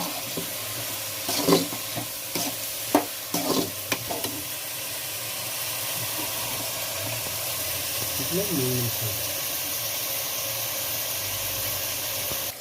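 Tinda gourd fries in a pan for a Tamil-style poriyal. It opens with clattering scrapes of stirring, then settles into a steady, even sizzle.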